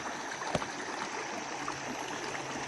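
A river stream flows over a sand-filled bed, giving a steady, even rush of water with a brief knock near the start, heard close up with no talk over it.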